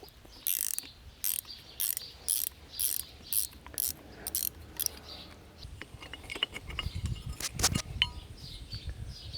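A wrench works loose parts of a Woodford Y34 frostproof hydrant, giving rapid rhythmic ratcheting clicks in bursts, then scattered metallic clinks and knocks, fairly faint and close.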